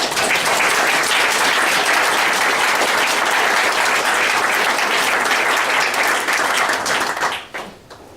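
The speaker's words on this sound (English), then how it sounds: "So perhaps we should give her a round of applause." Crowd at a community weekend lecture applauding a colleague: a loud, dense, sustained round of clapping that carries evenly throughout, then tapers off abruptly at the very end.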